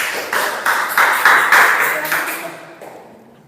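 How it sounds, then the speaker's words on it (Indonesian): Classroom clapping for a presenting student group, several short bursts of hand claps in quick succession that fade away toward the end. "Tepuk tangan untuk kelompok 3."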